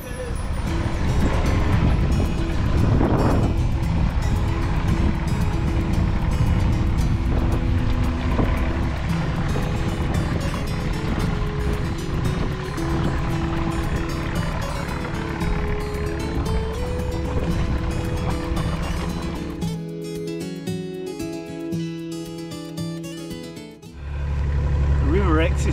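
Sailing boat under way on the River Exe in Devon, a steady broadband rumble of engine and water noise running throughout, with voices talking over it and a quieter stretch near the end.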